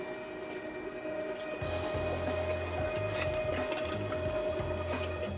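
Meat grinder running a fine grind of a pork sausage mixture, a steady mechanical whir with a low pulsing motor hum that grows fuller after a moment and churns on continuously, close and fairly quiet, with no talking.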